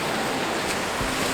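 Surf rolls in continuously at Bang Tao beach on Phuket's northern coast, a dense, loud wash of breaking waves with wind across the microphone and no voices.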